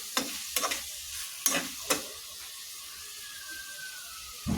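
A spatula stirs small fish with chili powder in a pan, several distinct scraping strokes in quick succession over a soft frying sizzle, then a quieter stretch of gentle hiss before another scrape at the end.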